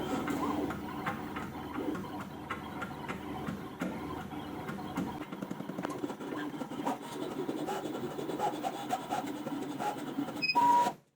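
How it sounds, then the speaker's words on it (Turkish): A Teneth MC350E desktop cutting plotter with camera and creasing cuts a printed box: steady close mechanical ticking and scratching whir throughout, ending with a few short electronic tones. "Şu an katlayacağımız yerleri bize kolaylık olsun diye çizgi olarak çiziyor ve şimdi kesim işlemi başladı."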